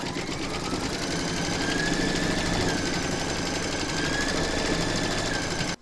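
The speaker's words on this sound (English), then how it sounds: "You can now pop that into your machine and stitch round number three" A sewing machine runs steadily, stitching fabric and lace onto a t-shirt in a continuous, even whir that stays close and loud for nearly six seconds before stopping abruptly.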